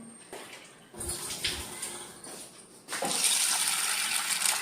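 Water pours and splashes over chana dal lentils in a container in bursts, swelling to a loud rushing gush near the end, with no talking.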